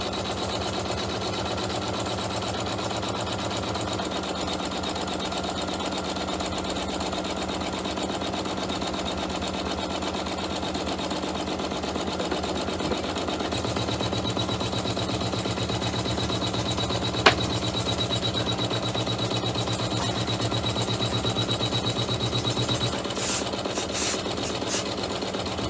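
A sewing machine stitches chenille hot pads over white stabilizer, its motor running in a steady, rapid mechanical chatter for the full stretch with a slight change in pace partway and a few small clicks near the end.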